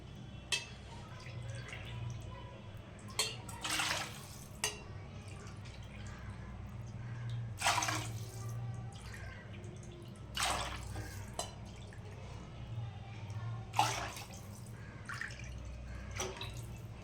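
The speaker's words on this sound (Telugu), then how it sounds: "ఇప్పుడైతే మనం ఇందులో 6 కప్స్ వాటర్ వేసుకుందాం." Water is poured by the cupful into a cooking pot while making semiya sabudana payasam, giving several separate splashing bursts spread over the stretch against a low steady background hum.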